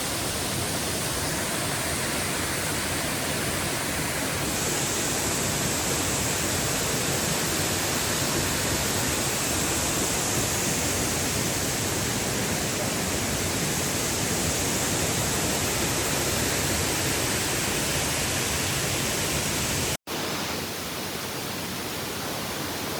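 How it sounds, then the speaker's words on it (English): Ravana Falls waterfall in Ella, Sri Lanka, roaring as a loud, constant broadband rush of falling water heard close up, with no break until an abrupt cut near the end. "Ravana secret waterfall."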